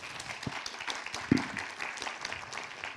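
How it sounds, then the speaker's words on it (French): Audience applause at the end of a French marketing round-table discussion, fairly quiet and steady clapping from a crowd with one sharper, louder clap standing out partway through. "on peut les applaudir"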